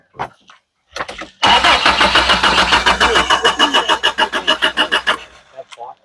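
An Isuzu Amigo cranks briefly and then catches, its engine running loud and close with a pulsing, uneven rhythm before cutting off, while voices talk around it.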